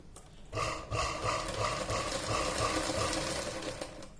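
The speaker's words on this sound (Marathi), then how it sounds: "आता मी इथपर्यंत शिलाई कशी मारते ते बघा" A sewing machine runs a continuous, rapid rhythmic whirr and clatter while stitching fabric for a picot hem, starting after a brief pause and staying steady and close, with no voices.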